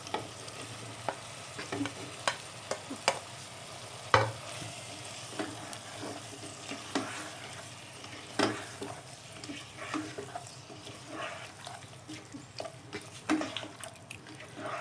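Turnips and tomatoes stirred in a frying pan, a soft steady sizzle with scattered scraping and clinking of the spoon at irregular intervals, fairly faint and close, with no talking.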